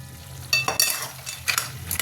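Pumpkin chorchori cooking in plenty of oil with no water, a low steady sizzle punctuated by several sharp scraping stirs of a spatula against the pan, close and alone.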